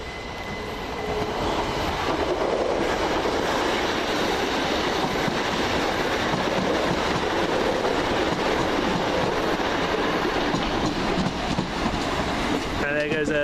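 A train arriving into a New Cross terminal platform, loud continuous rumble and clatter of wheels on rails with a steady roar throughout, ending in a brief screech of brakes.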